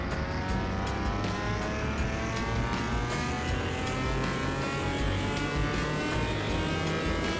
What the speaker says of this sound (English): this is a V12, starts at 721 horsepower, 739 foot-pounds of torque